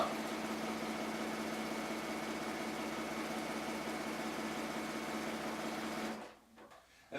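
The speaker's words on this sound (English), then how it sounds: "this needs to be a perfect 1/4 inch, or the borders won't come out right. And you just line it up and sew." Close, steady whirring of a sewing machine stitching a quilt border at a quarter-inch seam, running continuously for several seconds before stopping.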